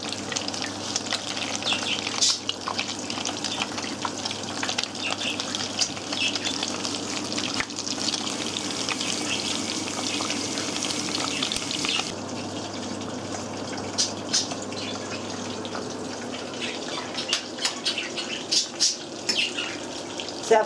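Meatballs sizzle in hot oil in a frying pan for a home-style family meatball recipe, with a steady, dense crackling hiss that runs unbroken for about twenty seconds and no voices over it.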